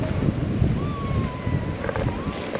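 Overflow water from a Chennai lake in the rainy season rushes in a steady, loud, close roar, with wind buffeting the microphone.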